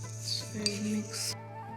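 Whole panch phoron spices mixed in a kitchen container, giving a few light clinks and rattles over a brief stretch, close and fairly quiet.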